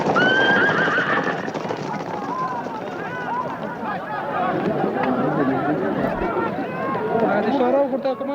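Horses whinny and neigh amid a busy, chattering crowd in 1978 Afghanistan, with a steady rumble of hooves and movement throughout.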